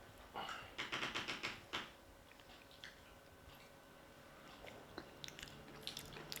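Crisp bites and crunching chews on a crunchy vegan snack with nuts, a quick run of sharp crunches early on, then sparser softer chewing, close and fairly quiet with no talk.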